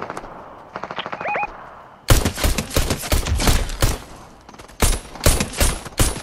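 Rapid bursts of Fortnite gunfire crackle loud and close, coming in several dense automatic volleys after a quieter opening with a few faint shots and a brief tonal chime.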